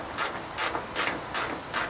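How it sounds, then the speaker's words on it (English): A flex ratchet wrench works hardware in a tight spot on a 1946 John Deere AR tractor during air cleaner disassembly, giving five evenly spaced bursts of close, crisp ratcheting clicks with no talk. "Glad for my flex ratchet wrenches here"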